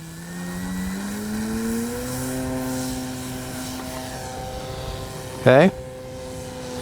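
Hangar 9 20cc Valiant RC airplane gas engine in flight, a steady buzzing drone whose pitch climbs as it throttles up, moderately near, with a brief sharp burst near the end and a short spoken word.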